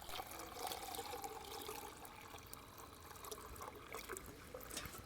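Liquid is poured outdoors at a wilderness bushcraft camp from a container lifted on a forked Y branch, making a faint, continuous trickling splash that lasts several seconds.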